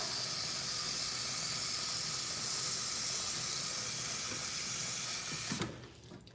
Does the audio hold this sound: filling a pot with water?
yes